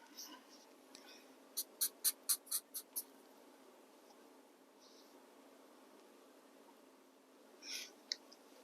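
A brown Sharpie marker draws on a strip of Bristol board, giving a quick series of six faint, crisp squeaky strokes, then a few scattered light scratches in an otherwise quiet room.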